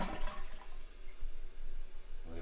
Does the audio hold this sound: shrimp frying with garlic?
no